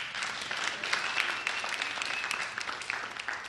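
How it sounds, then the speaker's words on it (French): A church congregation at a healing service claps together in a continuous, fairly soft round of applause, the individual hand claps blurring into an even, moderately distant patter. "On applaudit Jésus"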